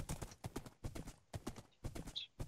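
Horse hooves clip-clop in the video game Minecraft, a quick, regular run of close, crisp hoofbeats in pairs with no talk.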